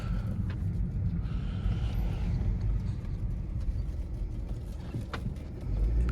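A 2013 Volvo S60 with a turbocharged four-cylinder engine and 140k miles, heard from inside the cabin while driving: a steady, even engine and road drone with no voices.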